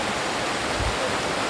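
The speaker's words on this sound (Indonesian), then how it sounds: "air terjun buatan" An artificial waterfall pours in a rural setting near a fast-flowing river, producing a loud, steady broadband rush of falling water with no other sounds over it.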